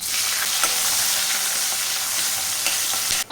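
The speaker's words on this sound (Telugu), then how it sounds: "ఆయిల్ అయితే వేడెక్కింది ఇప్పుడు సాసవులు కొంచెం జీలకర్ర కరివేపాకు ఆనియన్ ముక్కలు" Mustard seeds, cumin, curry leaves and onion pieces hit hot oil for drumstick sambar, a loud, close, continuous sizzle with faint crackles and occasional stirring taps, no talking.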